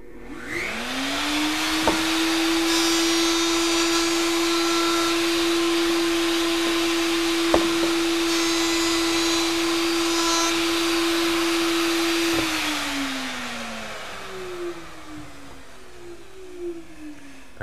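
A router takes a cut off both sides of a wood piece, its motor spinning up to a loud, steady high whine that holds for about ten seconds with a few sharp knocks, then winds down and fades, with no voices.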